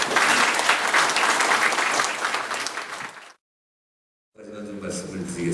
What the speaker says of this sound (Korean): 조은찬 이사장님을 큰 박수로 모시겠습니다